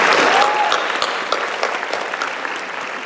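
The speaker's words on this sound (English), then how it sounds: "Let's have another round of applause for Joelle" A graduation convocation crowd applauds a speaker, with dense clapping loudest at the start and then gradually thinning and fading as individual claps stand out.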